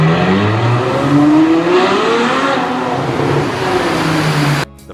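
A Ferrari F12 Berlinetta with a 6.3-liter naturally aspirated V12 revs loud and close, pitch climbing steadily through a sustained sweep before the sound cuts off abruptly near the end.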